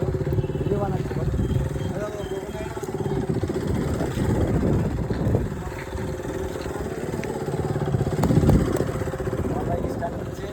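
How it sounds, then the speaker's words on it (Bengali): A motorbike being started in a public street, a steady close engine rumble and clatter running throughout under people talking. "আমার বাইক স্টার্ট হচ্ছে, এখানে আমার বাইক স্টার্ট করছে।"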